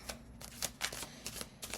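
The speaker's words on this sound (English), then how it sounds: "Even as I'm shuffling this deck" A large tarot card deck being shuffled by hand, giving quick riffling bursts in an uneven rhythm, close and fairly quiet.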